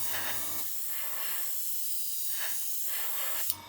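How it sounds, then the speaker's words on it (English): A steady, close aerosol spray of Japanese MRP paint hisses for several seconds without pause, ending in a brief click as the nozzle is released. "just do a quick test spray"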